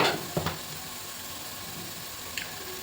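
Turmeric and chilli powder fry in hot oil for a paneer and egg biryani, a soft, steady close sizzle broken by a few brief spoon taps, with no talk.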